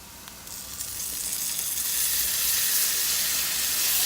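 Minced garlic sizzles in a hot pan while easy Mexican rice is being made, a steady, fairly loud broadband hiss that swells slightly and holds with no talking.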